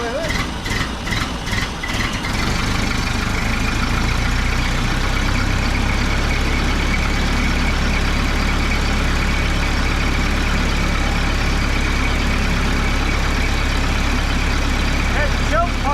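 A 1930 Ford Model A engine idles with a steady low rumble throughout, loud and close, with an uneven choppy patter at the start before settling.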